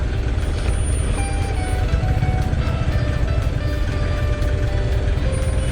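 A BMC government truck rumbles steadily along the road amid continuous traffic noise, a dense low drone with no clear gaps throughout.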